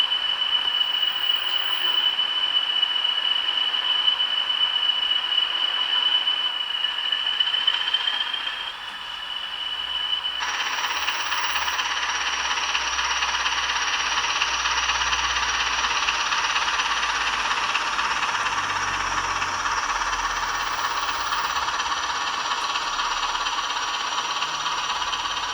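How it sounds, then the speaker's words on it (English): Bachmann Class 20 model diesel locomotive, number 2011, running on a model weedkiller train, gives a steady mechanical engine drone with a high whine that drops away, then a broader continuous hum building and holding to the end. "we've dialed up number 2011, started it up, and we're about to move this locomotive onto the front of the train."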